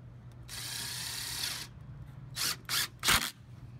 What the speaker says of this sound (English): Scoot it in tight, and then we'll attach it with two screws.